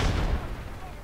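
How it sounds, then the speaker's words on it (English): A grenade blast in a video game: a loud, booming burst that rolls off into a fading rumble within about a second. "Somebody just chucked another grenade up right here."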